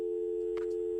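Telephone busy signal in the Kathy Rain video game, a steady clean dual-pitch tone with a couple of faint clicks, alone and unbroken.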